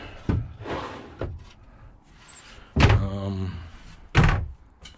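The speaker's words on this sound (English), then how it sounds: "Roll out drawers." RV roll-out drawers on slides sliding and banging shut, three or four distinct thuds and knocks spaced apart over a faint room background, no talk.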